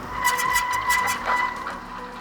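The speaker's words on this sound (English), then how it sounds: "I got some skidding on my back tire, about 15-20 feet" The rear tire of a Kakuka K70 electric road bike skids under hard braking, a steady rough scrubbing hiss with a faint squealing tone, close and continuous for about two seconds without talk.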